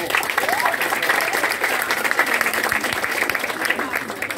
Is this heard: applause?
yes